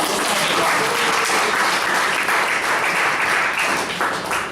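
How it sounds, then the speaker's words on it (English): A club audience breaks into a sustained round of applause, dense clapping from many hands filling the room at steady loudness and easing off slightly toward the end, with no talking over it. "Can we have one round of applause for"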